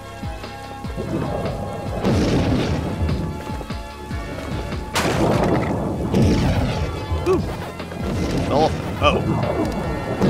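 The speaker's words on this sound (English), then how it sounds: "Thunder!" Thunder in the video game Pac-Man World Re-Pac: repeated rumbling crashes over dense game music and effects, with a person reacting briefly aloud.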